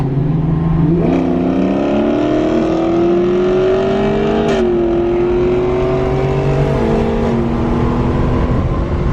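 A BMW M4 and a Scatpack Dodge Challenger 392 launch in a drag race, a loud close engine note rising steadily with revving and gear changes as tires spin, no voices over it.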